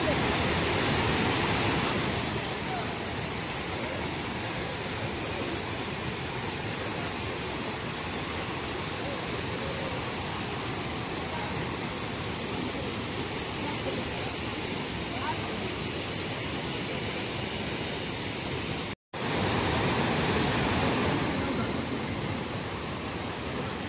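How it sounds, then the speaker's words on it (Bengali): Hundru Falls, a waterfall near Ranchi, roars as a steady, loud, close wash of falling water with no pauses, apart from one very brief dropout near the end. "এটা হলো হুড্রু ফলস।"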